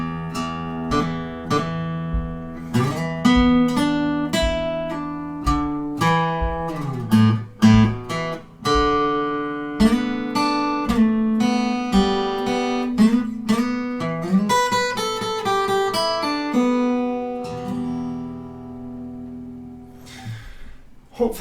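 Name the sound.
guitar playing a riff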